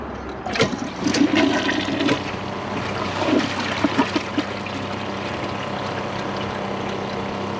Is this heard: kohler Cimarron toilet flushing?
yes